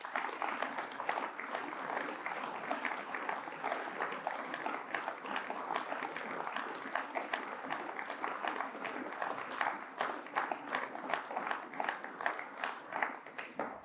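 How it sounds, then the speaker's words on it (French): Audience applause fills a hall at a back-to-school political speech, a dense, steady wash of many hands clapping that runs unbroken for about fourteen seconds, with a few sharper individual claps near the end. "je vous propose de les applaudir bien fort"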